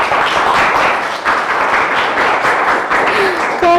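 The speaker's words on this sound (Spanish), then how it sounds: "Un fuerte aplauso, por favor." Audience at a UNAM lecture on oceans and climate giving a loud, steady round of applause, dense clapping throughout the clip with a voice starting to speak near the end.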